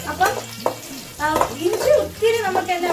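Garlic and ginger sizzle steadily as they fry in oil in a pan, with a few scraping stirs. Faint music plays in the background.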